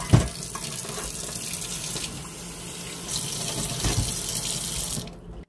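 Tap water pours steadily into a sink to rinse an ear of corn on the cob, a continuous close splashing rush with slight surges before it cuts off at the end.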